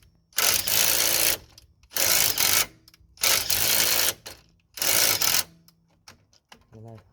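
A power tool drives a nut in and out on the front anti-roll bar link of a Mitsubishi Outlander, four loud whirring bursts of about a second each with short pauses between them, close up.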